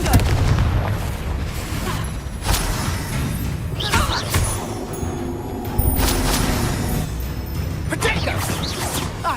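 Confringo explosive spell blasting in Hogwarts Legacy, several booming bursts and crashes spread through the moment alongside other spell effects, with a voice calling out over the fight.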